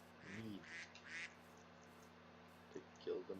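Ducks quacking in a woodland setting, several short harmonic calls in a burst near the start and again at the end, fairly faint, with a steady low hum underneath.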